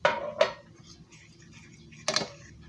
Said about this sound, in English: you stir it constantly so it won't get lumpy too fast